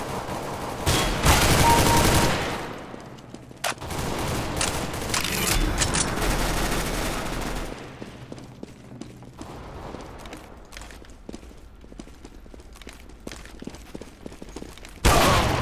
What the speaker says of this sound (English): Oh, that was a sniper rifle.